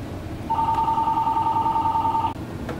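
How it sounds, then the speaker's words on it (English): A telephone rings at a hobbyist's workbench during a 1/350 scale USS Enterprise model build, sounding as one sustained electronic tone of about two seconds over a low background hum. "And there goes the phone ringing."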